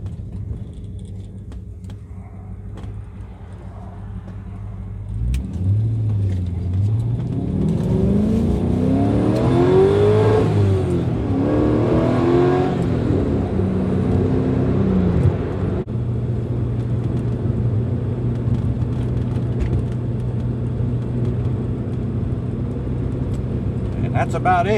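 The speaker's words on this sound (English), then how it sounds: "A fun little Saturday afternoon drive in our 6-liter LS powered Porsche 944 S2" A 6-liter LS V8 swapped into a Porsche 944 S2 drones steadily from inside the car, then revs hard and climbs through several gear changes before settling back to a loud, even cruise.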